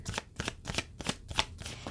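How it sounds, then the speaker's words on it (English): Tarot cards being shuffled by hand in a steady run of crisp riffling bursts, about four or five per second, close and fairly quiet with no voice over them. "Sorry to talk and shuffle."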